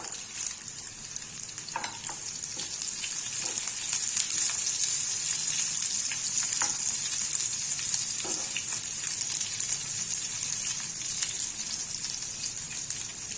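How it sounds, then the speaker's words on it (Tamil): Sliced onions and dried red chilies sizzle steadily in a hot oil pan while cooking Pallipalayam chicken, a continuous bright frying hiss with a few soft stirring scrapes and no voices. "இதுவும் வதங்கட்டும் நல்லா வதக்கி கொடுத்துக்கலாம்"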